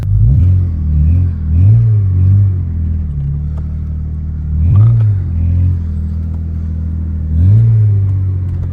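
A BMW 318ti engine idles with a low rumble and revs up in periodic swells, roughly every few seconds, close and loud with no talking.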